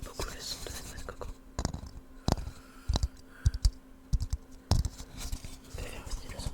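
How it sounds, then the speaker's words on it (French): Soft ASMR tapping on a coconut shell: close, quiet, irregular knocks and taps in clusters, with faint scratchy handling between them and no speech. "J'aime beaucoup le son de la noix de coco."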